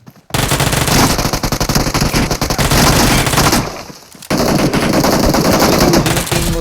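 Uzi and UMP submachine guns fire in PUBG on the Erangal map: loud, rapid automatic bursts run almost without a break, with a short lull near the middle before the shooting resumes.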